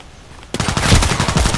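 Sig Sauer MPX submachine gun firing in the Contract Wars shooter game: after a quiet half second, a rapid, loud automatic burst of close gunfire that runs on to the end.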